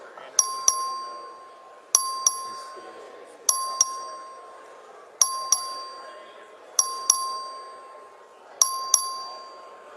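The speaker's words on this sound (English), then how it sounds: "The clerk will please ring the bell." A voting bell in a legislative chamber rings in six repeated double strikes, bright metallic dings spaced about every one and a half seconds over a low murmur of room noise.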